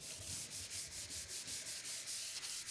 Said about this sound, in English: Sand with 220 grit paper, moving back and forth in overlapping straight strokes.